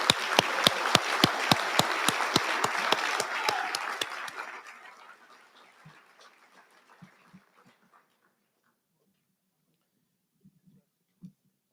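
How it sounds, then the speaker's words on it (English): An awards dinner audience applauds the communications award recipients, a steady roomful of clapping with one sharp rhythmic clapper standing out, fading after about four seconds into near silence broken by a few scattered soft knocks. "please join me in a round of applause for the Communications Award recipients"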